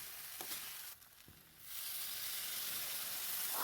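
Fish heads fry in salted oil in a pan for Assamese murighanta with a steady hissing sizzle that dips briefly, then swells louder and stays constant.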